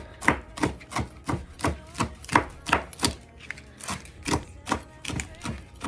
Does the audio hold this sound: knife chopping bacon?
yes